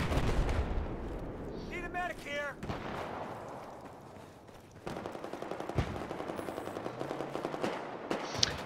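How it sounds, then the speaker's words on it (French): The CBJ submachine gun in a video game fires rapid, rattling bursts that snap like a nail gun, fairly faint under an excited commentator talking throughout. "Je pense qu'on a tous l'impression que ça ressemble à une clouteuse cette arme."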